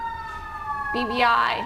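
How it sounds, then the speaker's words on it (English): Emergency vehicle sirens pass outside in the early morning, a rising wailing tone that swells and sweeps in pitch as it nears, loud over a low traffic rumble, with a voice speaking briefly. "Sirens are coming."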